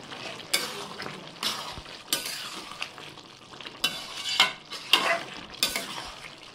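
Jackfruit and shrimp curry is stirred after garam masala goes in, a series of close, rhythmic scraping strokes of a spatula through the thick mixture over a faint sizzle, with light metallic clinks.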